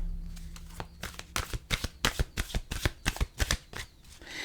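Tarot cards being shuffled by hand: a quick run of about a dozen crisp riffling snaps in a steady rhythm, close and clear, with no talk.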